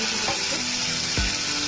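Sugar frying in hot oil in a pan makes a continuous close sizzle, with two brief sharper sputters breaking through the hiss over less than two seconds.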